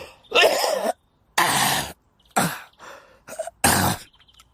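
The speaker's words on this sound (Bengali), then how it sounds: "দম ফাটানো কাশির শব্দে" A violent coughing fit in a Bengali horror audio drama. Five harsh, hacking bursts come in close, one after another, with brief gasps between them, loud and dry like throat-clearing.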